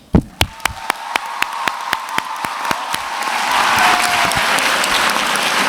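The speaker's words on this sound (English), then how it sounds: "very big rounds of applause" Applause from a graduation day audience for teachers and staff, starting with a few sharp, evenly spaced claps that swell into loud, sustained clapping from a crowd.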